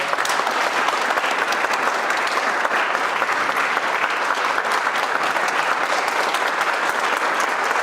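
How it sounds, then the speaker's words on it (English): Loud, sustained applause from a packed room at an annual community award celebration, dense overlapping claps at a constant level for the full span, near and full, with only faint crowd noise beneath. "Let's give her a round of applause"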